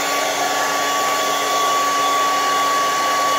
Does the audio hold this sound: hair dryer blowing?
yes